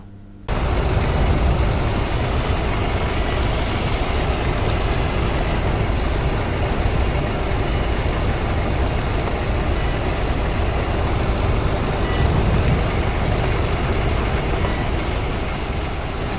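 A municipal fire engine's heavy engine rumbles and idles loudly and steadily close by at a grass fire, with a constant low roar and no voices.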